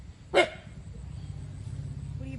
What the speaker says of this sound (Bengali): আমাদের কুকুরটা চিল্লাচ্ছে